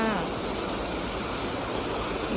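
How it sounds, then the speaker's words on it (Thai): An artificial waterfall at a cafe produces a steady, close, full-bodied rush of falling water that stays constant throughout with no pauses and no talking. "นี่น้ำตกจำลองอย่างสวยเลย"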